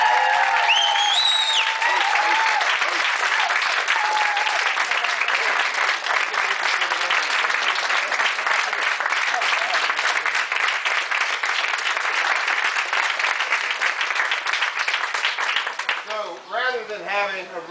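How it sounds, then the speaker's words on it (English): Sustained audience applause and clapping at a skydiving gathering fill the whole stretch at steady loudness, with voices mixed into the crowd noise. "applause was much deserved. And we'll hit it one more time right now"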